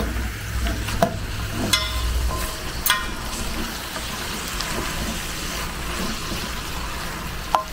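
Ground beef with some fat sautéing in a pan for lasagna meat sauce, a steady close sizzle with occasional scraping stirs and utensil clicks, no talking.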